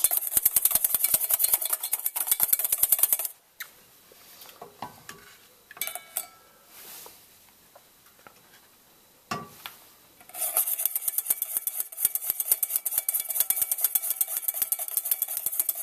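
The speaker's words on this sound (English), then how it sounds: "we want to whisk it till they are completely absorbed and the mixture is homogeneous" A whisk beats butter into hollandaise sauce in a bowl with rapid rhythmic scraping taps, pausing for several seconds of quieter clinks in the middle before the brisk whisking resumes, no voices.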